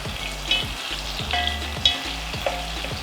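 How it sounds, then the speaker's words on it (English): Onions fry in a pan in a home kitchen, a steady close sizzle with a low pulsing hum beneath and a few sharp clinks of a utensil against the pan, no talking. "So we're cooking these onions until they turn golden brown."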